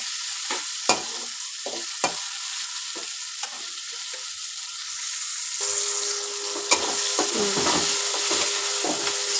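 Onions and tomatoes fry with mustard seeds and cumin in a pan, giving a steady close sizzle with occasional stirring knocks throughout.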